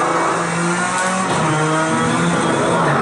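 A car engine in a racing video game, loud and continuous, its pitch climbing and shifting as it accelerates through the gears.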